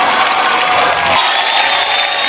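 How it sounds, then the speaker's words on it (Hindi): Studio audience on a comedy talk show bursts into sustained applause and cheering, dense clapping with whoops filling the room at close, loud level for the whole stretch. "तालियां होनी चाहिए।"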